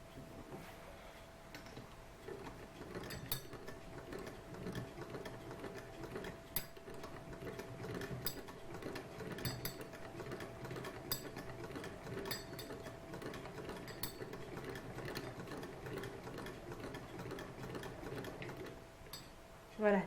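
A hand-cranked 1908 sewing machine runs steadily for twenty seconds, a continuous rhythmic mechanical clatter with regular ticks, close and moderately loud, while people talk softly over it.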